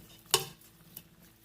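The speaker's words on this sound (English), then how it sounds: "I'm going to go ahead and stir everything together." A spoon scraping and stirring vegan feta pasta in a pan, one sharp clattering stroke followed by a fainter knock, close up with soft background hiss.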